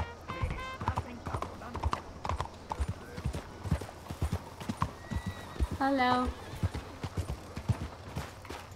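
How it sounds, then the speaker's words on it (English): Hoofbeats of a horse being ridden through a city park in Red Dead Redemption 2, a steady clip-clop rhythm with a whinny near the middle and a brief spoken word over it. "Just riding my horse through the park"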